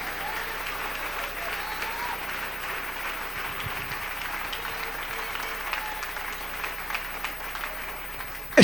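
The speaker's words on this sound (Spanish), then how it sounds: "Dele ese aplauso al Rey en esta noche." A church congregation at an evening service applauds for several seconds, a steady, full wash of clapping from many hands with crowd murmur beneath.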